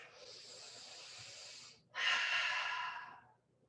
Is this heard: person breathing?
yes